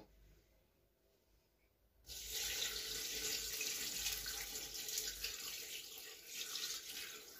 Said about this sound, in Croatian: sada ćemo da sipamo vodu u našu sarmu